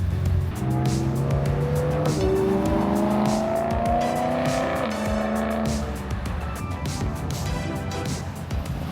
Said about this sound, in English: record some of the cars coming in